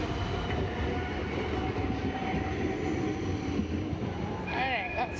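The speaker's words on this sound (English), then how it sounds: "I hear another tram coming" A tram rumbles past on an Amsterdam street, a steady low rolling clatter with a faint metallic squeal near the end, amid general outdoor background noise.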